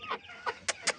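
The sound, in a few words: decorative hen clucking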